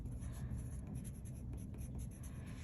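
A pencil scratches steadily across a sheet of paper in an art class, a close, continuous dry rasp with no pauses and no talking.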